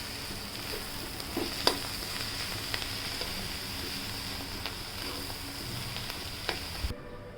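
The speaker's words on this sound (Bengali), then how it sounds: "ভাজিটা একটু ভাজা ভাজা করেই নামিয়ে ফেলব।" A vegetable bhaji fries in a pan with steady, close sizzling and a few soft clinks and scrapes of stirring, then cuts off abruptly near the end.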